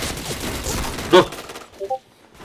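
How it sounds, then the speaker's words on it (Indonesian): Gunfire in a video game: a single sharp, loud shot bursts out around the middle, followed by a couple of quieter clipped impacts, with faint game ambience and no talk in the clip. "dari mana nembak ini?"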